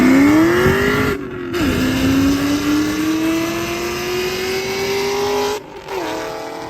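A Ford Cobra 4-valve 4.6 liter V8 revs loudly and steadily, its pitch climbing, briefly cutting out, then rising again in a long sustained pull with a short dip near the end.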